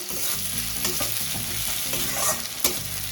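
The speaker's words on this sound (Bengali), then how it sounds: "পেঁয়াজটা হালকা ভাজা ভাজা হয়ে এসছে, লাল লাল করে লালচে করে ভাজা হয়ে এসছে।" Onions sizzle in hot oil in a pan while being stirred for a Bhola fish curry, a steady close frying hiss punctuated by scraping, knocking stirs of a utensil against the pan.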